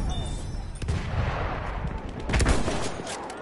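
Machine gun fire in the Battlefield 1 video game, loud bursts of gunfire hammering through a busy battlefield din with strong spikes near the start and again in the second half, low rumble underneath.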